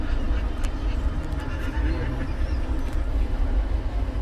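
Train pulling into Old Delhi railway station about 40 minutes late, heard from a sleeper coach with open windows: a steady, loud low rumble of wheels and carriage noise throughout, with faint background voices.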